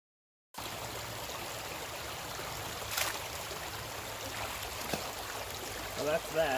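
Gold panning in a stream: water trickles and swirls steadily nearby, with faint sloshing and a few light knocks as the pan is worked.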